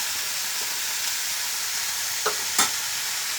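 Salted cauliflower stems cook in a pan under a constant bright hiss, broken by two quick scraping stirs of a spatula in the second half.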